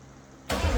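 A 1970s-era Pontiac LeMans with a 400 V8 turns over and fires, a quiet hum giving way to a sudden loud engine roar that holds through the end.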